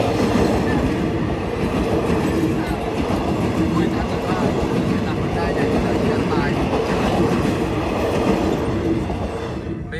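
A train passes a level crossing in Surin, Thailand, with a loud, continuous rumble and rhythmic wheel clatter that stays close for the whole stretch before easing slightly at the end.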